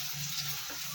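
Food frying in a pan gives a steady, close sizzle with a bright hiss, continuous and fairly loud for about a second, with no talk over it.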